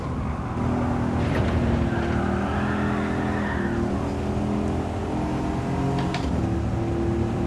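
Aston Martin race car in Gran Turismo 7 at Goodwood Circuit, a sustained engine drone holding steady with rising and falling rev tones and occasional faint ticks, loud and continuous, with no talking.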